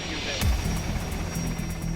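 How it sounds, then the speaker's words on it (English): Rescue helicopter hovering near a mountainside in strong, shifting wind, its rotor throbbing steadily and fairly close, blended with wind rumble over a two-second stretch. "The helicopters arrived, but the weather conditions are making it difficult for it to land."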